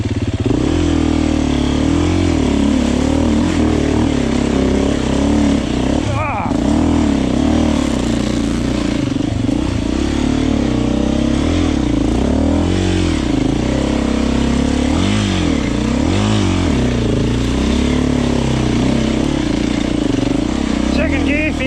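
A 2024 Beta 390 Race Edition motorcycle rides a wet trail with a loud, continuous engine drone that rises and falls as the throttle changes, heard close throughout, with a voice speaking over it.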